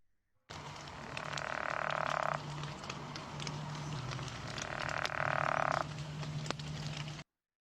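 A pickerel frog gives two long, low snoring croaks, each lasting about two seconds. The calls stand out against a steady background of chorusing frogs and insects, with no voices.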